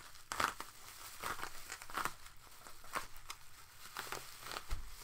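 Packaging being trimmed and handled during a CGC comic slab unboxing, a steady run of close crinkling, tearing and crackling plastic with small irregular bursts, fairly quiet and without talk.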